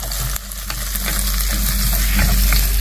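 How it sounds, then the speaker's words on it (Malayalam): Food sautés in a pan with a loud, continuous sizzle, broken by scraping stirs and small knocks from a utensil, and no one speaks. "നമുക്ക് നന്നായിട്ടൊന്ന് വഴറ്റിയെടുക്കാം."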